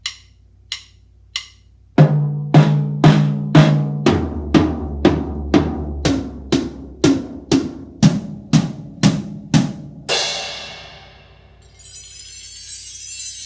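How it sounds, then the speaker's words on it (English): A fast rhythmic run of drum hits builds into a steady pulsing pattern, then breaks into a crash and a bright, lingering shimmer. "If you are picked to play the cleanup drums, it sounds a little like this."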